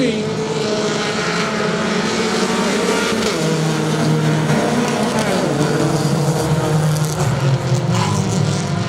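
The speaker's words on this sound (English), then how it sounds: "Hard racing down into turn 3." Race cars at Saratoga Speedway roar hard into a turn, a loud dense blend of engines rising and falling in pitch as the pack passes close by.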